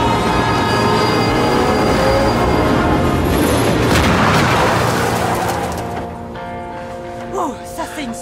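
An explosion in the video game As Dusk Falls: a loud, sustained rumbling blast with a heavy low roar that holds for several seconds, then fades into quieter game sound with a few faint voices.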